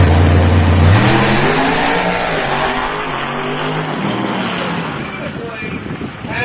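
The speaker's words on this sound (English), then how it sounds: "As the nitrous came in, piped the front end up, and Troy pedaled out of the wheelie beautif" A nitrous drag racing car launching down the strip, a loud close engine roar that drops in pitch and recedes over several seconds, with crowd and track noise behind it.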